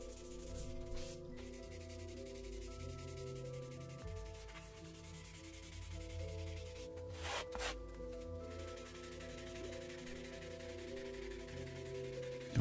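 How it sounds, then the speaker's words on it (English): Light scuffing of a finished cabinet door with a 180-grit foam sanding pad, a steady continuous soft rubbing hiss lasting throughout, close and even with gentle pressure. "take that same 180 foam sanding pad you had earlier, very light pressure, and all you're going to do is blend, lightly scuffing"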